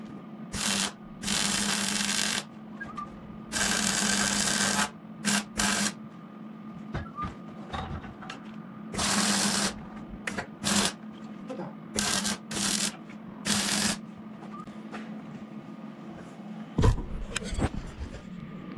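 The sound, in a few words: welding the rear of a drift trike frame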